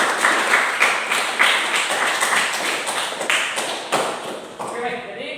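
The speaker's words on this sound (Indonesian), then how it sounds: "mari kita tepuk tangan untuk diri kita sendiri." A seminar group in an academic supervision session in Manggarai Timur claps for itself, a lively, close burst of hand claps lasting several seconds before it tapers off.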